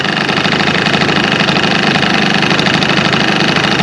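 An early-model Honda Live Dio ZX scooter idles up close with a loud, steady engine drone and a fast rattling chatter from the muffler, unbroken for the whole stretch.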